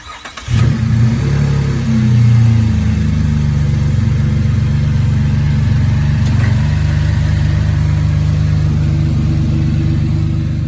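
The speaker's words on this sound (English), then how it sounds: "You just heard the startup of a 2018 gas V6 zr2 with the Lingenfelter Supercharger." A 2018 gas V6 Chevrolet Colorado ZR2 fitted with a Lingenfelter supercharger cranks and fires up, swelling to a loud revving roar before settling into a steady, deep, close idle with no voices.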